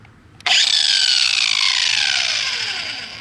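A stump grinder's carving disc with six carbide teeth bites into a wooden stump: a sudden loud whirring, grinding attack that holds steady and slowly winds down, with no voices.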